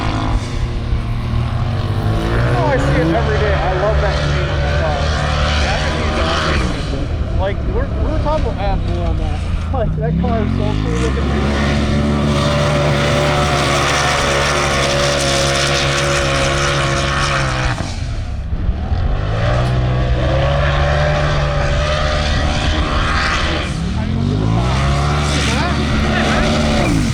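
Loud, constant engine roar from a 1300-horsepower Polaris RZR side-by-side tearing across sand dunes, its revs swinging up and down in long sweeps with brief dips, while people talk over it throughout.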